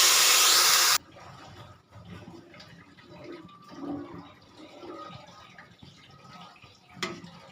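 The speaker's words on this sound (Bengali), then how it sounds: "এখন পরিমাণ মতো গরম পানি দিয়ে দিচ্ছি।" A loud burst of hot water pours into a pan of fried pilaf rice for basanti polao. Softer bubbling and liquid sounds follow at moderate volume.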